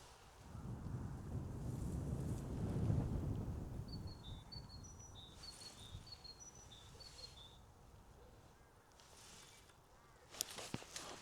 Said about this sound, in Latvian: vējš pūš tieši pretim sejā